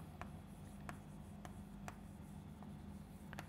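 Marker or chalk writing on a board during a chemistry lesson, short scratchy strokes tapping out at irregular intervals over a steady low room hum, no voice during them.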